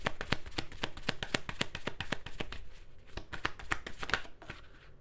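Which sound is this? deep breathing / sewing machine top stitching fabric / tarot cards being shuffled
tarot cards being shuffled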